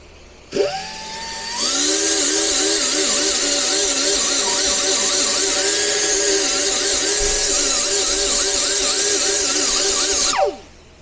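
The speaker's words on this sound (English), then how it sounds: "you'll take this die grinder, and the surface where the hole is, you want it flat, and you kind of want to score the surface" A die grinder scores the rubber surface around a puncture hole in a tire, spinning up with a rising whine and then holding a loud, steady high-pitched grind with wavering pitch for about nine seconds before winding down.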